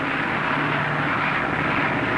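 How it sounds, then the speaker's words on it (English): Airplane engine droning in flight in a 1940 aviation adventure film, a steady propeller-aircraft hum with a low tonal buzz, continuous and even throughout with no talk. "And as King Morgan fights to keep his plane from sinking"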